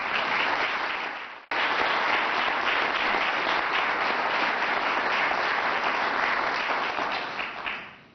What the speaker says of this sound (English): I never received this many applause when I was here as a state representative.